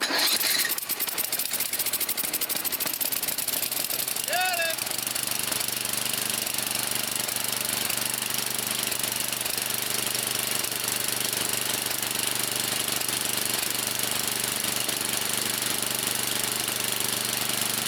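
Small engine on a 22-year-old Craftsman 30-inch riding mower with a Tecumseh 11hp cast-sleeve engine, running steadily at slightly reduced RPM after a fix, with a continuous loud, rattly drone throughout.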